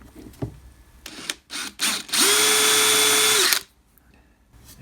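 A drill press bores a hole out to size, a few short bursts of motor and cutting noise followed by one loud steady run of about a second and a half, then spinning down to quiet.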